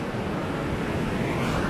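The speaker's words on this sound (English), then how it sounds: "the surf is quite rough today" Rough surf breaks on Kata Beach, Phuket, in the August rainy season: a constant broad roar of waves, loud and unbroken, with no talking.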